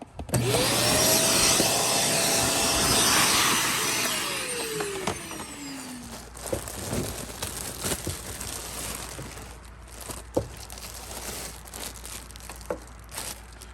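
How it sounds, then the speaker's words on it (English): A Shark Vertex AZ2002 vacuum cleaner with weak suction roars loudly for the first few seconds during servicing, then winds down, leaving scattered clicks, rustles and handling noises. "it's easier just to change these, vacuum that out too"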